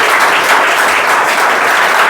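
Students applaud at a school prize-giving ceremony: dense, steady clapping from a crowd fills the room at close range, continuous and even throughout without pauses.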